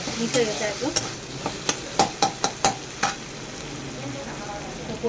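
Garlic frying with potatoes in a pan gives a soft sizzle under a series of sharp stirring and scraping knocks from a utensil against the pan, close by and fairly quiet.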